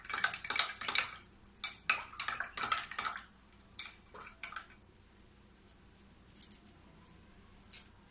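A spoon clinks rapidly against a glass while stirring powder into half a glass of milk, a burst of bright metallic taps that slows and fades into quiet, scattered clinks.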